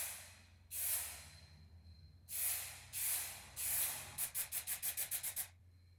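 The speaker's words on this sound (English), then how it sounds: "I decided to try spray painting." Aerosol spray paint can hissing in bursts while coating electrical covers: three longer sprays followed by a rapid run of about eight short, even puffs, close and clear over a low background hum.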